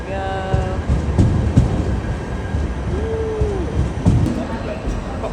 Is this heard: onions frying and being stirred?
no